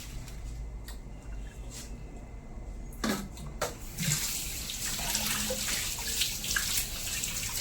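Fish pieces, including heads and gills, being washed under running water: a quiet start with faint clinks, then a steady gush of tap water splashing from midway on.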